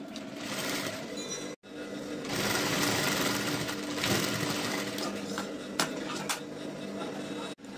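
A sewing machine stitches blouse fabric in a fast, continuous whir, running steadily with two brief stops between long bursts.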